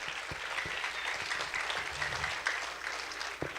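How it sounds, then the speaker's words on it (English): At a school open house, an audience bursts into steady applause, many hands clapping together at moderate loudness, with a few sharper individual claps standing out. "Give yourselves a round of applause."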